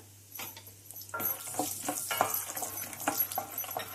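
Peanuts frying in about three tablespoons of hot oil for a tempering, a steady close crackling sizzle with small popping bursts and faint stirring throughout.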